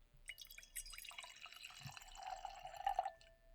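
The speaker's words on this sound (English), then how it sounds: "Going to pour some of it into our wine glass." Umeshu plum liqueur poured from a bottle into a wine glass: a few seconds of trickling, splashing liquid that rises in pitch as the glass fills, quiet and close with no talking.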